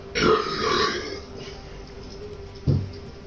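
A loud, drawn-out burp close to the microphone, followed by a second short belch.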